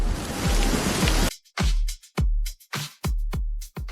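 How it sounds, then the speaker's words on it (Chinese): A heavy nighttime rainstorm gives a dense, loud rush that suddenly breaks into a series of short, abrupt bursts separated by brief silences. "今夜有暴雨"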